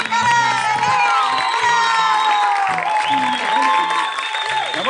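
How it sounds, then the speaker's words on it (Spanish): A lively television studio crowd claps and cheers to welcome Liliana Morillo, loud and close, with whoops and shouted voices riding over sustained applause. "con un fuerte aplauso, que recibir a Liliana Morillo"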